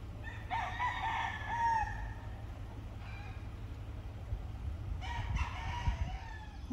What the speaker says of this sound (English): First time to see a bunch of roosters.